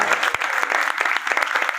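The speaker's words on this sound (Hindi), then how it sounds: "उनके लिए तालियां बजा दी जाएगी" An audience at a pigeon tournament prize event claps continuously, a dense, steady burst of applause heard close and loud with no talking over it.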